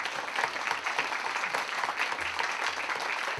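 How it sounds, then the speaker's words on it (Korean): Audience applause for visiting Gyeongnam and Gyeongbuk groups at a Christian student retreat's opening worship service, steady even clapping throughout from a crowd. "우리 멀리서 온 우리 경남지구, 경북지구 우리 박수 한번 하도록 하겠습니다."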